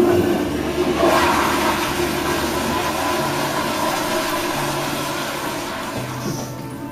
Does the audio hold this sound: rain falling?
no